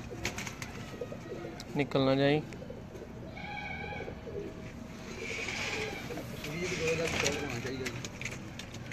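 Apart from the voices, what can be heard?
pigeons cooing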